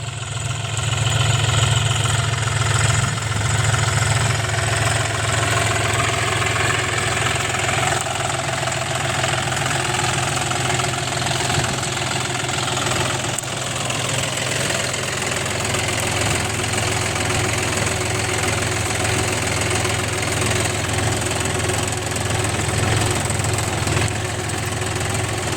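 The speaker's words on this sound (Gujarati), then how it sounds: "કેવું ચલાવે છે ટ્રેક્ટર આપણું." A tractor engine drones loudly and steadily in a field during interculture of sesame, a constant rumbling hum with a slight knock that holds the whole time with no speech.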